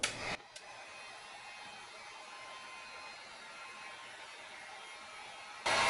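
Hot air blower heating a leather boot to stretch the calves, a steady airy hiss and hum held at an even level with clunks at start and finish.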